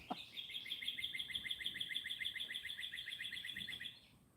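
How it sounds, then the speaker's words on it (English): A woodpecker by a river gives a fast, steady chattering call of many rapid notes lasting about four seconds, clear and fairly close over quiet outdoor background. "There's the woodpecker."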